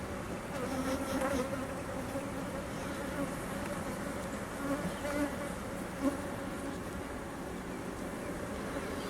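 Honey bees that had lived for a couple of years in a found colony hum and buzz steadily around an opened hive during an inspection, a dense continuous drone with no talk.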